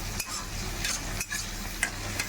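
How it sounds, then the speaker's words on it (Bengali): Chicken and vegetables for chili chicken frying in a pan: a steady sizzle with a few stirring scrapes and spoon clinks, close and without talk. "এদিকে সাথে এটা আমার ভাজা হচ্ছে, দেখতে পাচ্ছি"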